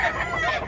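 A medium-sized, two-year-old pumpkin-colored rooster with dark legs crows close to the microphone, a single loud, raspy call that fills the short moment.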